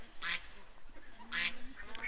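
Ducks being fed give two loud, raspy quacking bursts about a second apart, close by, over a faint murmur of background noise.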